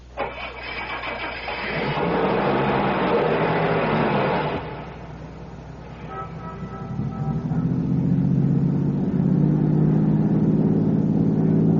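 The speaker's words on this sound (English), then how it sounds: "Start the car." Car engine in a crime drama cranking and catching, then idling steadily before revving up as the car pulls away, loud and close with no talking.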